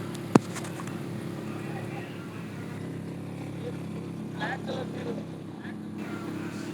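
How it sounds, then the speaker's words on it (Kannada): A motorboat with a Suzuki engine runs on a boat ride in Bengaluru, giving a steady, continuous drone throughout, with one sharp click near the start. "ಹಿಂದೆ ನೋಡ್ಬೋದು ಸುಜುಕಿ ಇಂಜಿನು"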